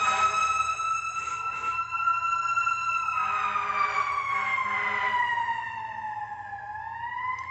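An emergency vehicle siren wails along a road, loud and sustained, its tone sweeping and slowly sliding downward as it passes, with no voices.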